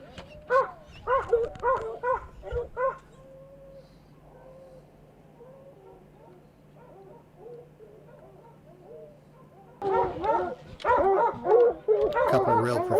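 Hunting dogs on a fresh mountain lion track in Nevada bark and yip in eager bursts, a cluster at the start, a quieter lull, then renewed loud barking at the end.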